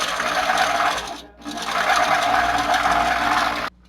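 A sewing machine stitches a row across a quilt in a steady, loud whir that pauses briefly near the middle, resumes, and then stops abruptly.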